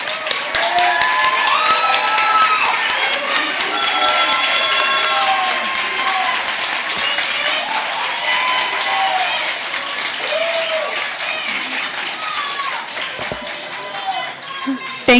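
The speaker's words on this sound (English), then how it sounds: "show your appreciation for the candidates by your applause" Audience at a Minneapolis Ward 10 city council candidate forum clapping for the candidates, a loud, steady round of applause lasting several seconds with scattered cheering and voices mixed in before it tapers off near the end.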